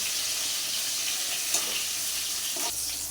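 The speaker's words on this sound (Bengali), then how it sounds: "দিয়ে এবার নাড়াচাড়া করে ভাজা করে নেবেন।" Slices of pointed gourd fry in a pan, giving a steady, moderate sizzling hiss. A couple of soft stirring knocks come near the end.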